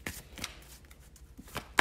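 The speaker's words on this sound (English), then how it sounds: "I'll go ahead and shuffle live" Tarot cards are shuffled by hand, close and quiet, in several short riffling bursts separated by brief pauses.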